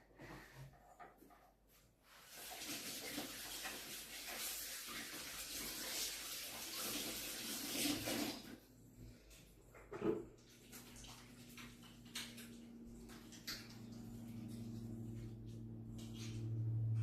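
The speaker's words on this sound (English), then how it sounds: "I'm just gonna wash my fingers." A kitchen tap runs while fingers are washed: a steady hiss of flowing water for several seconds, then a splash and the tap shutting off, leaving a faint hum.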